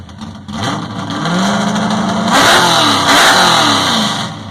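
A Chevrolet Camaro engine plays back as a recording, starting with a brief idle and then swelling into loud, sustained revving with two strong surges, heard alone without talk.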